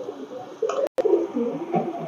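A Pakistani Teddy pigeon gives soft, low coos, a few short phrases close by, with one brief gap of silence in the middle.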